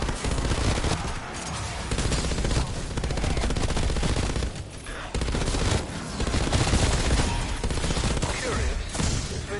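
Steady, dense gunfire fills a zombie shooter game as players fire at an approaching zombie, the shooting continuous and loud with voices talking over it.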